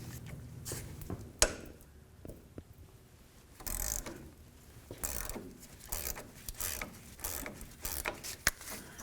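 Tie rod end nuts are loosened with a wrench, giving a string of sharp metallic clicks and ratcheting bursts with brief pauses between them, close and fairly loud, and no talking.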